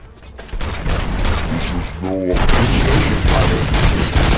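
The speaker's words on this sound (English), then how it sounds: "Gunshots? What's going on?" Rapid bursts of gunfire and mechanical clatter from the video game RoboCop: Rogue City fill the clip, loud and dense, with a brief tonal whine in the middle.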